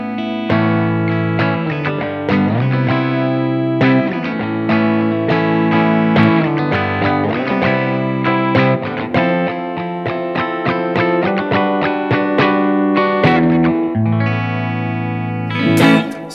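Electric guitar through a new Blackstar amp with generous reverb, playing a loud, continuous run of chords and notes with sustained ringing decay and no talk.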